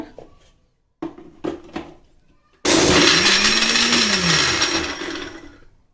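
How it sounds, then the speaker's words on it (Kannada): A few light knocks and clicks, then a kitchen blender roars loudly into motion grinding tomato and poppy seeds into a fine paste, its motor pitch rising and falling steadily for several seconds before running down, with no talk. "ಇದು ನೀಟಾಗಿ ಫೈನಾಗಿ ರುಬ್ಕೊಳ್ಳೋಣ ಇವಾಗ."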